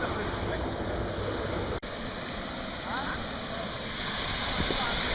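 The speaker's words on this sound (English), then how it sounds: "That's a waterfall." Steady roar of a waterfall beside the Road to Hana on Maui, a constant broadband wash of falling water with a brief break and faint voices underneath.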